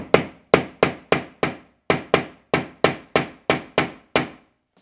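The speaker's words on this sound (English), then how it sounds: "Got a hammer, got a nail punch." Twelve sharp, close hammer taps drive a steel nail punch into a wooden staircase at a steady, even rhythm, each knock ringing briefly before the next.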